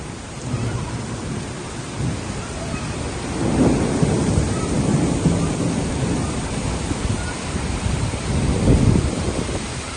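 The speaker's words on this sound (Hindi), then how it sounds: "बहुत ज़्यादा हो रही बारिश।" Heavy rain pours steadily in Makkah, a dense continuous wash of noise with low rumbling swells that could be distant thunder, loud and unbroken throughout with no voices.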